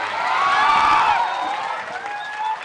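Crowd at an outdoor Bihar election rally clapping and cheering, a dense sustained wash of applause with scattered whoops, loud and continuous throughout.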